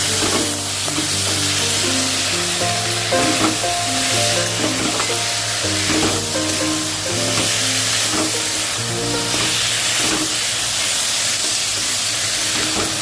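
Ginger-garlic paste frying in a hot pan, a loud steady sizzle and hiss running throughout, with a faint repeating musical tone beneath it.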